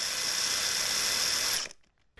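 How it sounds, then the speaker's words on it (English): An electric hand drill fitted with a buffer pad spins against a snooker ball, giving a steady high-pitched whine that runs loud and close for about a second and a half before cutting off abruptly and winding down into silence. "you're then ready to clean the balls quickly with this simple buffer, attached to a hand drill"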